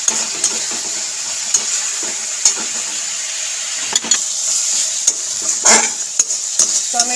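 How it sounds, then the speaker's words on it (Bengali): Grated tomato sizzles in hot oil for a mourala fish jhal while a spatula stirs it around the pan, giving a steady frying crackle broken by repeated scraping strokes, close and clear with no talking. "টমেটোটা দিয়েও ভালো করে নাড়িয়ে চাড়িয়ে ভেজে নেবো"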